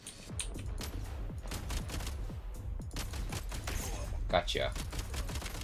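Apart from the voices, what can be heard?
gunfire from firearms in Genshin Impact video game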